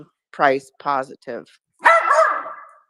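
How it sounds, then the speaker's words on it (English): A dog barks in a short burst of sharp woofs at the end, after a person talks over a live discussion. "sorry for the dog"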